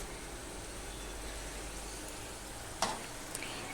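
Ginger and onion fry in a pan, giving a steady, even hiss of oil throughout. Near the end comes a single sharp clatter, followed by a faint tap.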